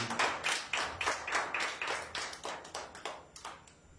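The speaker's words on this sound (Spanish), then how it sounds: "¿Por qué no le dan un fuerte aplauso?" A church congregation claps together in a steady, brisk rhythm, about three sharp claps per second, loud and close, with no talking.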